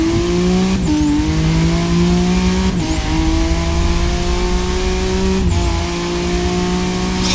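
A loud Aston Martin DBR9 race car engine in a video game drones continuously, its pitch climbing steadily and dropping sharply three times as gears shift.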